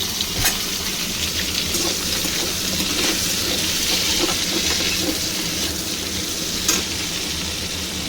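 Sliced potatoes salted and frying in hot oil sizzle loudly and steadily in a pan, with a few faint stirring scrapes and no voices over the constant crackle.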